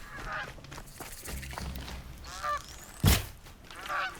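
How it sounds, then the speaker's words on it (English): Geese in the Horizon Zero Dawn video game give several loud nasal honks at irregular intervals, one sharp and close, over a low in-game ambient bed. "Oh right, I can't kill geese."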